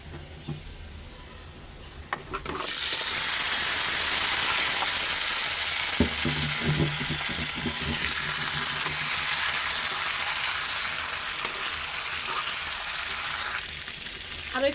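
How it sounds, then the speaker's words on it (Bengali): Chicken pieces sizzle and fry in a pan with browned onions: a steady, loud hiss begins a couple of seconds in and carries on with occasional clinks and stirring scrapes. "আরও একটু ভাজা নিলাম মুরগিটা"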